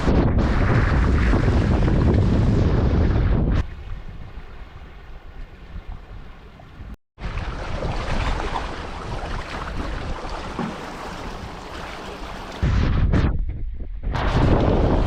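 A boat under sail moves across open water, with heavy wind buffeting the microphone and a broad rush of water and waves, easing midway and then building again.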